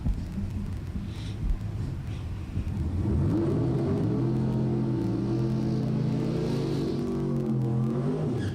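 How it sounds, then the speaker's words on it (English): A drag racing car's engine rumbles and revs up at a bracket racing track, starting as a low, rough idle and then rising into a loud, steady, climbing roar that continues to the end. "I hear engines, which means box door car is coming out right now."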